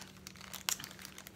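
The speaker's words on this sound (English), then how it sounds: "I'm trying to open the package." A plastic bag holding a galvanized metal cutout from the Dollar Tree crinkles faintly and close up as it is worked open, with one brief sharper crackle partway through.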